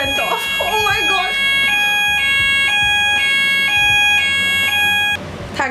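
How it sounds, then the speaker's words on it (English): A fire alarm sounds while someone is cooking, a loud, steady electronic beep repeating in regular pulses for about five seconds, with excited talking over the start. "The fire alarm went off!"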